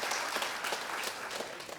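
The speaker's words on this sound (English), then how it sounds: "Give a round of applause to Jade" Brief audience applause for a student named Jade at a jazz camp student performance, a short burst of moderately quiet clapping with a few distinct sharp claps over a soft rolling patter.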